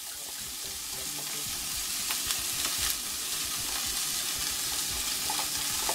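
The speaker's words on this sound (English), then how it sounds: "I'm gonna go ahead and get my ground beef into my hot pot here." Ground beef sizzles and crackles steadily in a hot pot, with occasional scrapes and stirring sounds over the continuous fry.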